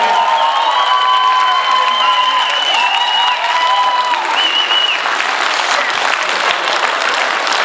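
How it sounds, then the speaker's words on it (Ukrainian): A concert crowd in Truskavets gives loud, sustained applause after a performance of "Smereka", with cheering and high whistle-like cries riding over the dense, close clapping throughout. "Ще, ще, ще подаруйте оплески."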